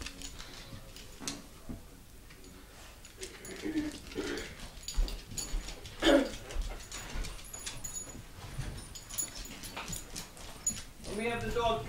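A small dog called outside into deep snow during a big holiday snowstorm whimpers and yips now and then. People talk to it and coax it throughout, with scattered rustling and movement close by.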